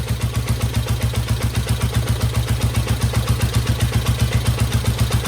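A Honda CB350 twin motorcycle engine idles steadily close by, its low, even pulsing beat loud and regular throughout with no voices over it.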